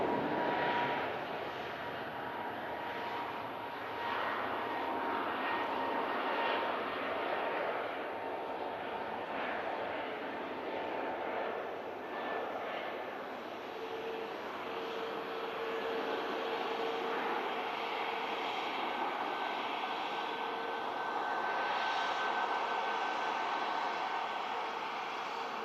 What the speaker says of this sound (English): the EasyJet Neo for Hurghada is now on the takeoff roll.